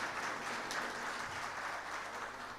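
Steady audience applause at a digital banking and payments summit greets an international speaker, a dense, even wash of many hands clapping throughout without any voices.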